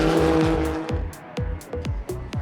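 GT race cars lap the Snetterton circuit during a GT Cup sprint race, with engines revving hard and rapid gear changes in a quick rhythmic series, loud and close, and no talk.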